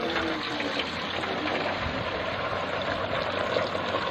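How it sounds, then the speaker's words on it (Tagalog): Water pouring into a container to dilute a fertilizer mixture for spraying on vegetable plants, a loud, steady rushing flow that continues unbroken throughout, with no voices. "lalagyan na ng tubig at saka i-spray na yan."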